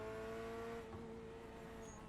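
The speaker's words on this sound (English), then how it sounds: "It's weird not having that that Chevy V8 rumble, but still pretty cool sound here with the mid-engine." Chevrolet Corvette C8.R mid-engine racing car in the iRacing game at Road Atlanta, its engine holding a steady, sustained tone, quiet and smooth with no talking over it.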